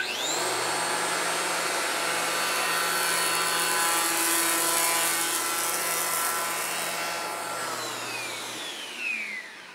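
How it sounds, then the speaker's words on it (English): A power planer shaving the edge of a new door being hung in an old jamb, with a loud steady motor whine and cutting roar running continuously throughout before winding down at the end. "I'm going to plane the edge of this door until it's pretty close to parallel to"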